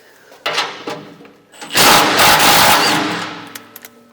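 Short bursts from a smaller impact wrench with a 9/16 socket loosening nuts on the impeller fan plate of a MUSKOX 26-84 snowblower, a brief rattle followed by a longer loud hammering run that trails off into a few small clicks.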